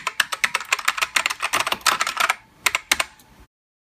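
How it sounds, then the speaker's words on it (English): Rapid mechanical keyboard typing, crisp clacky keystrokes in quick bursts, close up, with a short pause before the final few taps and then silence. "It's a mechanical keyboard."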